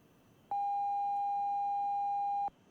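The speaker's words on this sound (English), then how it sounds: "once your altitude reaches that target, it will beep" Altitude alert in the cockpit of an IL-76 in X-Plane 12, a single steady, loud pure-tone beep held for about two seconds before cutting off abruptly.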